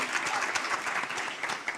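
Steady applause from a conference audience, dense clapping filling the room at an even level throughout, fairly close and without pauses.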